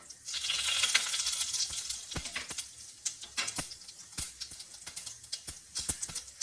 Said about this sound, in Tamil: இப்போ கடுகு ஜீரகத்தை ஆட் பண்ணிக்கோங்க.